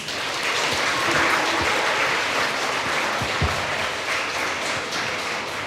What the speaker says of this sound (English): Please give him a big round of applause.